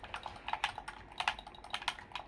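Rapid, crisp plastic clicks in an uneven rhythm, close and fairly quiet, from mouse-click-style tactile front buttons on a GameSir G7 SE Xbox/PC controller pressed repeatedly.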